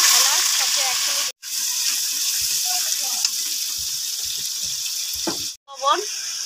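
Whole spices such as cardamom, cumin, ginger, garlic and onion sizzle steadily in hot oil in a pan, a close, continuous frying hiss with occasional stirring and brief pauses, and a voice speaks briefly.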